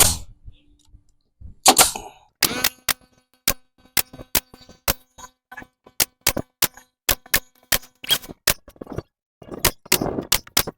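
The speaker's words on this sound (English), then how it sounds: "This is just an old cheap nail gun from Harbor Freight, but it does work good." An old, cheap Harbor Freight nail gun fires repeatedly while nailing together a wooden horizontal beehive, each shot a sharp clacking bang spaced irregularly, some in quick bursts and others after short pauses.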